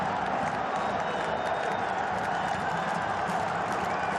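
A packed stadium crowd roars for an Al Nassr goal in an AFC Champions League 2021 semi-final against Al Hilal, a steady, loud wall of cheering that holds without a break.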